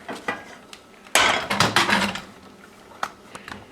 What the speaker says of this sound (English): just turn it off and take it off the heat right away